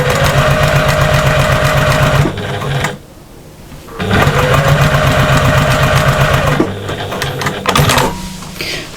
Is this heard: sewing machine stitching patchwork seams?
yes